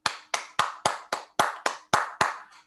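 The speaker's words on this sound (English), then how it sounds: "So clap your hands." Audience clapping hands at a talk on the Bhagavad Gita, nine sharp, evenly spaced claps in a slow unison rhythm, loud and close with no talking.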